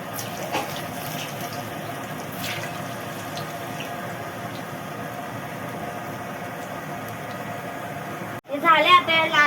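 Raw potato pakoras fry in hot oil with a steady, close sizzle that runs throughout, then a sudden louder burst of bubbling crackle near the end.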